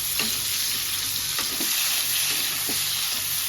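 Chicken pieces sauté in a hot pan, a steady bright sizzle with a few soft stirring scrapes and clicks scattered through, close and alone without voices.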